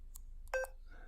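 A Yaesu FT3DR handheld radio keypad gives a few short electronic beeps while characters are entered, one faint tone followed by a clearer, louder beep, close by with no talking.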